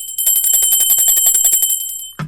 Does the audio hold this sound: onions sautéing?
no